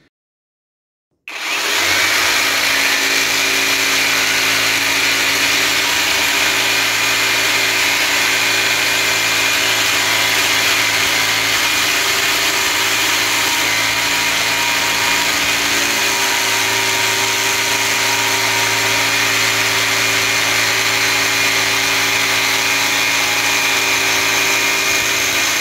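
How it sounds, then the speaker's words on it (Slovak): A Parkside PSSPA 20-Li A1 cordless jigsaw with a metal-cutting blade saws through a flat metal bar, starting abruptly after a brief silence and running as a loud, steady, unbroken buzzing drone to the end. "nie je problém odrezať s obyčajnou priamočiarou pílou, alebo teda s touto priamočiarou pílou"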